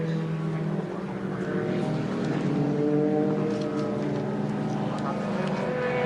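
Race cars, among them a Ferrari F40, at the 1994 Suzuka 1000km, with a steady loud engine drone that holds and wavers for the whole stretch.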